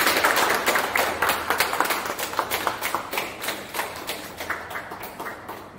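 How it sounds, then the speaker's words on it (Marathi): An audience claps steadily at the unveiling of a name board during an installation ceremony for newly appointed FESCOM Pune regional office-bearers. The dense, close applause gradually thins and softens toward the end. "आपण सगळ्यांनी टाळ्या वाजवायच्या"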